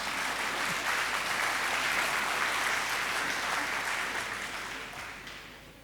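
Sustained audience applause at a book fair speech in Coimbatore, a dense wash of many hands clapping together that holds steady and then gradually fades toward the end.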